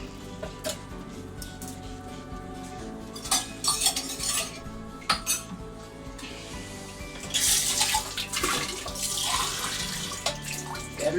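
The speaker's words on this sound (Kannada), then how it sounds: "ಆಮೇಲೆ ನೀರು ಹಾಕ್ತೀನಿ." Water is poured into a pot for egg biryani, splashing and running amid clinks of metal utensils and pot knocks, close and uneven in bursts.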